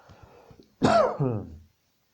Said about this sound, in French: Vous avez toussé?